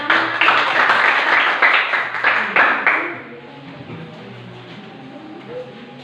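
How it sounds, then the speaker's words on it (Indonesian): Classroom group clapping hands for a student team, loud, distinct claps for about three seconds that then stop abruptly, leaving a quiet room with faint voices. "Tepuk tangan."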